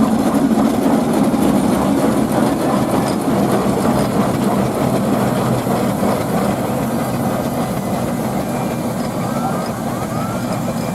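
A steam traction engine at a vintage country show runs with a dense, steady mechanical roar and rumble that continues without a break, loud and close throughout, with no speech on top.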